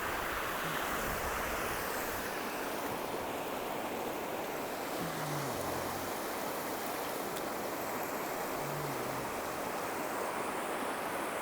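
River water rushes and splashes steadily while a quartz stone is washed in it in ancient woodland, a constant close wash of noise with no talking.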